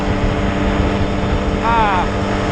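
A KTM 300 XCW TBI two-stroke dirt bike engine drones steadily at cruising revs while riding on a road, with wind rush throughout and a short voice-like tone partway through.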